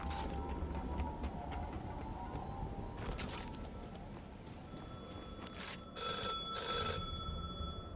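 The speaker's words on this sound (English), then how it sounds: "I hear a phone." A telephone rings faintly at night, with a brief electronic ring burst near the end over quiet background noise.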